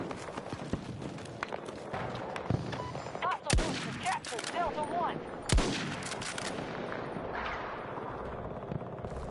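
Gunfire during a Battlefield 2042 match, with a few sharp, distant-sounding shots and two louder close cracks over a busy battlefield background, while players talk over it.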